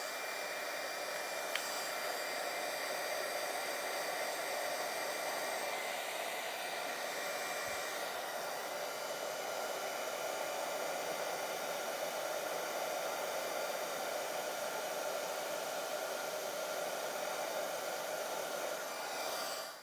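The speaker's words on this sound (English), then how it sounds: "Just need to grab my heat tool." A heat tool melts Brutus Monroe embossing powder on paper, giving a continuous loud fan-and-heater roar that holds steady without a break, close up and with no talking.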